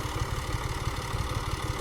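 A tractor engine idles steadily, a low, continuous rumbling chug heard close and alone without any voices.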